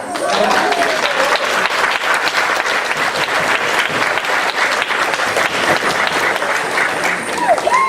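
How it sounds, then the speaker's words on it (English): An audience at a Hmong cultural event in Chico applauds a dance performance with loud, sustained, even clapping and a few scattered cheers throughout. "You can clap."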